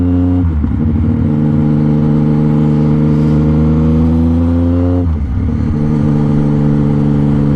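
A motorcycle engine runs loud and close in a steady, throaty drone, its pitch dipping and climbing twice as the throttle is blipped.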